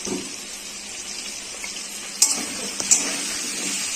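Potatoes fry with turmeric in a pan, a steady broad hiss running throughout, with two sharp louder clinks or stirs near the end and no talk.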